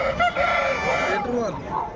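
A sengiri-coloured rooster, a reddish bird up for sale, crows close by in one long, loud, wavering call that trails off toward the end, with no talking over it.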